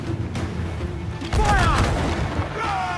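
Ship cannons firing during a naval battle in the video game Assassin's Creed 4: heavy booms with whistling projectiles and rumbling, a voice shouting over the gunfire.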